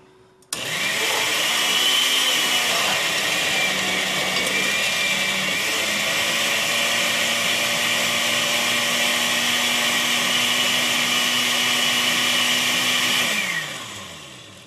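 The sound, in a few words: blender pureeing tomatillos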